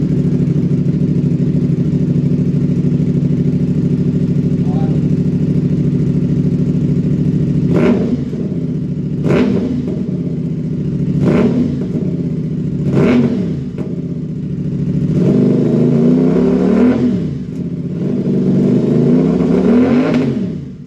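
A CF Moto 450 SR with a crossplane twin engine idles steadily, then rises in a series of sharp throttle blips, each rev climbing and dropping back, followed by longer revs near the end.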